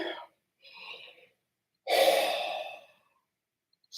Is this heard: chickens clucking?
no